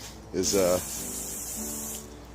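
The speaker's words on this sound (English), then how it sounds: "just spraying the cylinders and everything down with WD-40" WD-40 aerosol can sprayed down onto the engine cylinders of a rusty Chevy K20 during a body swap, a steady close hiss lasting under two seconds, briefly overlapped by a spoken word at the start.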